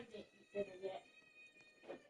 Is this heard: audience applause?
no